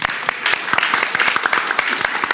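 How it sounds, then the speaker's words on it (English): An audience at an immigrant support event claps steadily, dense sharp handclaps filling the space at close range with no voices over them. "I want a round of applause for Lifelong"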